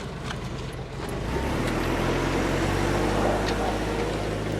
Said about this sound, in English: The tractor moving it.